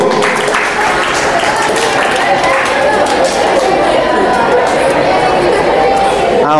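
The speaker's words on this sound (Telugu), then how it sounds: "Flower claps go." Schoolchildren at a government high school assembly clap together in a steady, dense patter of many small hands, with chatter mixed in throughout.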